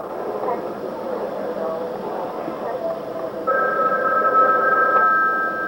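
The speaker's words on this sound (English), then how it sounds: "another one of those ringing phones up here" A phone rings with a steady electronic double tone somewhere near a race announcer's booth during a stock car race, coming in partway through and sounding over the ongoing public-address talk and track noise.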